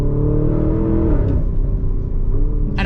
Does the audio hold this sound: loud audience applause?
no